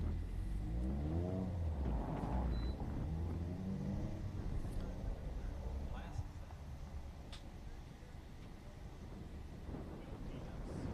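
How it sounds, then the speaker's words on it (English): A BMW M235 xDrive all-wheel drive car running an autocross course at St Lucie Fairgrounds, a distant engine rising and falling under steady wind rumble, with a voice talking briefly early on. "a M235 X-Drive BMW out on course"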